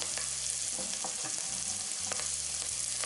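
Ginger, garlic and habanero pepper frying in hot oil in a pan, a steady close sizzle with occasional stirring scrapes, no talking.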